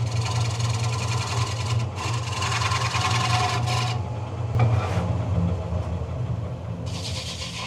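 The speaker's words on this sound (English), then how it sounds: "I'm not sure if I'm using a skew or a negative rake scraper." A carbide-tip scraper cuts a wet, spalted alder bowl spinning on a wood lathe: a steady, close, rough scraping rasp over a low machine hum, easing off briefly between passes, with no talk.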